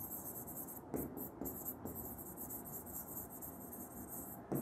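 Steady scratchy writing on a board during a physics lesson, close and faint, running continuously with a few brief louder strokes and no voice.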